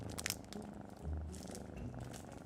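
A large black cat purrs steadily on a person's knee, a close, continuous low rumble with a soft pulsing rhythm and no talking.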